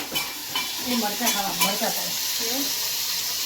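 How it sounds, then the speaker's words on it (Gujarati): Chilies fry and sizzle in a pan on a gas stove, a close, steady crackle with stirring scrapes and soft clatters scattered across it, no talking. "ગેસનો અવાજ આવી રહ્યો."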